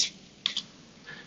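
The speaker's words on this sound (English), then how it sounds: "The keyboard works." Three short bursts of typing on a computer keyboard, quiet and close, a quick pair of clicks in the middle and a softer one near the end, with no talking.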